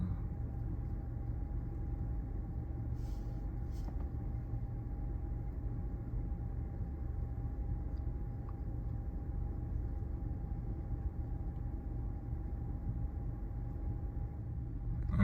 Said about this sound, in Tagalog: Ngayon, sabon na yung nilalagay.